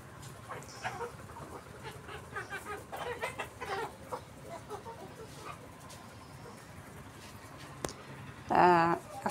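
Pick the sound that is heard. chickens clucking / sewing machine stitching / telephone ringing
chickens clucking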